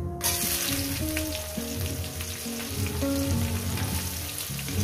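Chopped onion sizzles and crackles in hot oil in a pan while cooking a prawn and yogurt dish, a steady close frying hiss with soft stirring bumps throughout.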